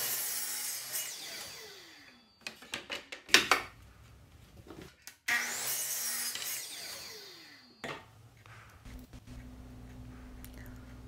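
Close-up hand sawing through wood in two bursts of rhythmic rasping strokes, with knocks and clatter of the workpiece between cuts.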